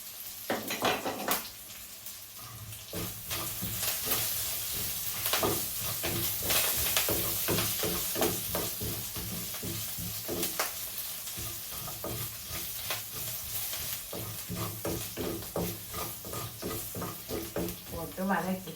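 Curry leaves and dried chillies fry in a pan with a crackling sizzle, punctuated by repeated rhythmic stirring scrapes, while someone speaks intermittently over the cooking.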